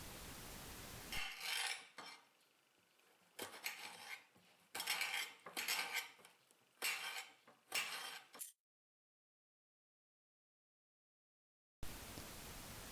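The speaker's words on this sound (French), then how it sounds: "Je coupe les aubergines grossièrement." A knife roughly chopping aubergines on a board, heard as bursts of close, scraping cuts for about eight seconds, then a stretch of silence before the sound resumes.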